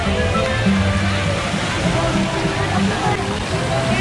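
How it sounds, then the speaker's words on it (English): Splashing water fountain at Disneyland's Toontown in Anaheim, a steady loud rushing and sloshing, with people talking close by. "Vamos a ver la water fountain!"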